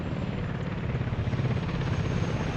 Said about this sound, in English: We will not be questioning the ways of the helicopter.